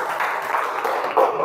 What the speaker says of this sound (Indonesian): Tepuk tangan buat Mbak Adel